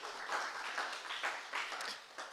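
Audience at a toxicology risk assessment training session in Uganda gives a short round of hand clapping, steady and moderately loud for a couple of seconds, with a few people talking faintly.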